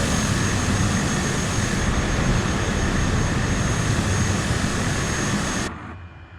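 A small plane, likely a Cessna, roars in close right overhead, a loud steady broadband engine drone that holds for several seconds before dropping away abruptly at the end.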